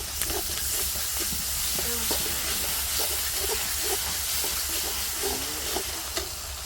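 Ginger paste fries in a pan with a steady close sizzle, broken by soft stirring and scraping, and no talking.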